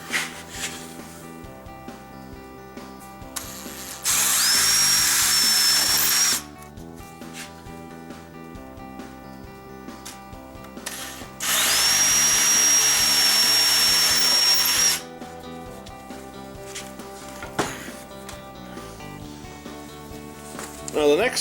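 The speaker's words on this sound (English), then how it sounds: "So first I'm just going to use an 1/8 inch drill bit." A power drill with a 1/8 inch bit whirs twice in bursts of a few seconds each while mounting oak cabinet drawer fronts, loud and close, its pitch climbing as it spins up, with quiet gaps between.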